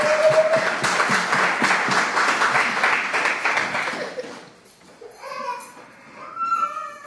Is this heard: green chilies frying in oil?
no